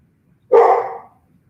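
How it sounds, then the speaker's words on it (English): A dog gives a single loud, close bark, sharp at the onset and trailing off quickly into quiet. "My dog."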